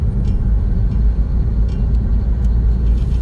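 Steady engine and road rumble from a 1951 Chevrolet Bel Air with a three-speed manual and Truckstell overdrive, cruising after a shift into overdrive, a continuous loud drone heard from inside the car with no voices.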